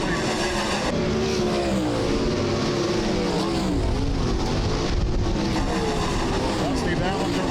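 360 sprint cars race around a dirt track at a weekly racing series event, engines roaring and revving continuously, shifting pitch as cars pass, with an announcer talking over the racket.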